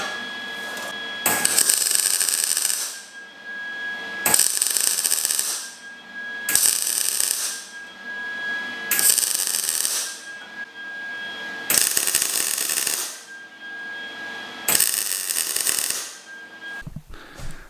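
Welding joins metal pieces during a budget turbo LS engine build, heard as six crackling, buzzing bursts of a few seconds each, separated by short quiet gaps, close and fairly loud with no talk.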